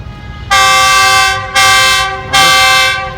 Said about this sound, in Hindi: हारन इसलिए बजा रहा है रेल वाला।